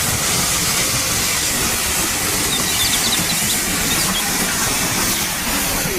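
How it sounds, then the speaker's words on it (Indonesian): A toy steam train gives off a loud, steady, continuous hiss of rushing steam, unbroken and close throughout with no talk. "Ada kereta api Toma."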